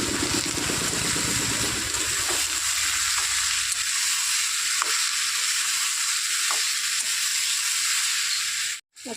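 Mung dal frying in hot oil with green chillies, a continuous close sizzle that is louder and bubblier at first, then settles into a softer, even hiss before a brief cut near the end.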